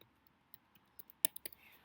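Someone types on a computer keyboard and presses backspace, making sparse, sharp key clicks that grow more frequent toward the end. The clicks are faint against an otherwise quiet room.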